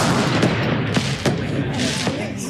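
Fireworks bursting in the animated series RWBY, several sharp booms and cracks at irregular intervals over a dense, loud background of music and effects.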